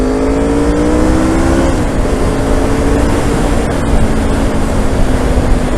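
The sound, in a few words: motorcycle race pipes exhaust revving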